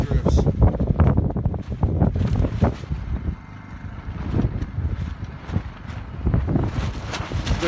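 Strong wind buffets a microphone during a moose hunt in Alaska, a loud continuous roar with gusty surges, rumbling low and steady across the whole stretch.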